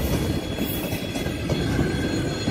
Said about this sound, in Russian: Смотри, поехала электричка.